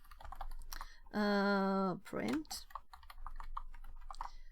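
Rapid clicking of keys on a computer keyboard, close and steady, with a short tonal beep partway through and someone speaking briefly over the typing.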